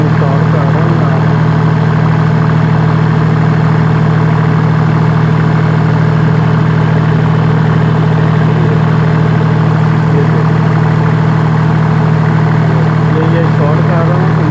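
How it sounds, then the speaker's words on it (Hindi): A diesel generator engine idles steadily with its DSE 4520 control module removed and the safety shutdown bypassed. It gives a loud, constant low drone with a strong hum throughout. "इंजन हमारा चलेगा।"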